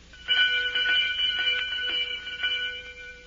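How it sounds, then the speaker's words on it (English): A bell rung as a radio drama sound effect for a stage play, heard as repeated bright metallic rings over about three seconds, close and steady, with no voices. "I rings the bell."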